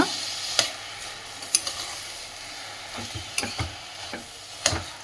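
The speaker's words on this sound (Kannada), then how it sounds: "ಒಂದ್ಸಲ ಚೆನ್ನಾಗಿ ಮಿಕ್ಸ್ ಮಾಡೋಣ" Sweet corn rice bath being stirred in a frying pan, with a soft steady sizzle under intermittent sharp scrapes and taps of a spoon against the pan, close and fairly quiet, with no talking.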